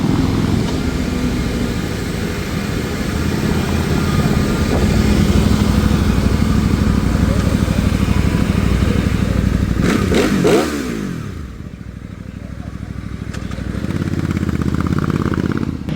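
A Benda 707 motorcycle rides on smooth pavement with a loud, steady engine drone, rising and falling in pitch, then briefly dipping and revving again near the end.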